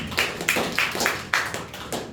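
A church congregation claps along in a steady rhythm, with sharp, evenly spaced claps about three per second, moderately loud and close, with no talking over it.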